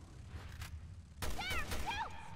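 A few sharp gunshots from Resident Evil Revelations 2, a sudden loud burst after a quieter stretch with some squeaky, chirping game sounds over the shots.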